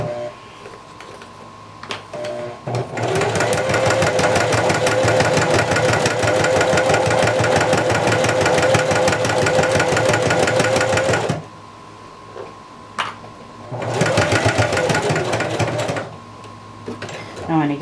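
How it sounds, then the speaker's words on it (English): A sewing machine stitches along the edge of a vest strap in two bursts, a long steady run of rapid needle clatter followed by a shorter one after a pause, close and clear. "I'm just going to sew about 1/8 of an inch to 1/4 inch from the edge of that strap."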